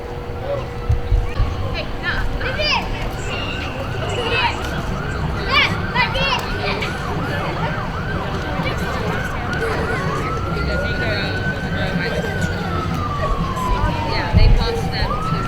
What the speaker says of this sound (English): I hear the siren in the background, so it means the parade is about to start.